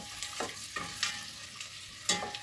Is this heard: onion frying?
yes